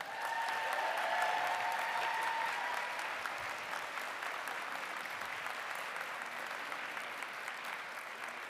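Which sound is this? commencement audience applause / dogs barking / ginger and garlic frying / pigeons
commencement audience applause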